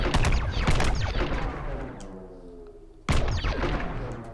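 Rifle gunfire in the VR game Blade and Sorcery, a rifle firing like a machine gun in fast loud bursts, then a pause with a ringing tail before another burst.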